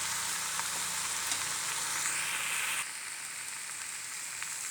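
Fried jackfruit and potato pieces sizzle and get stirred in a pan of hot, well-cooked spice mix. The crackle is steady and close throughout, with occasional scraping stirs and a slight drop in intensity partway through.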